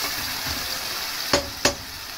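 Food for sautéed miswa with liquid seasoning sizzles softly in a pan at home, a low steady frying hiss broken by two sharp clacks of a utensil stirring against the pan.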